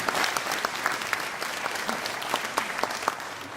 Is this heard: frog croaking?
no